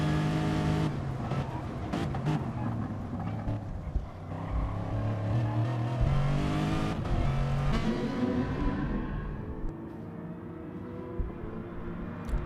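Racing car engine in an online racing video game on the Sardegna road track, revving hard and continuously through the gears, loud and sustained, with shifting pitch before it eases off toward the end.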